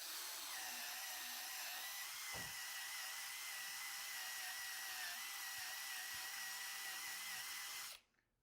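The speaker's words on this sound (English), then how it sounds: "Thanks to physics, the rubber grinds against the rubber, heats it up and takes it off." A rubber eraser wheel on a power tool grinds badge adhesive off the paint of an Audi A4, a steady high whining drone that runs for about eight seconds before cutting off abruptly, with no talking.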